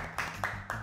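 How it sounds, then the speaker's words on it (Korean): Three evenly spaced hand claps ring out close and fairly soft, a short single clap each roughly a quarter second apart, with a faint murmur of a Korean baseball review broadcast underneath. "박수 한번 치고 가시죠."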